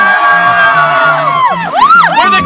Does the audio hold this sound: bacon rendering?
no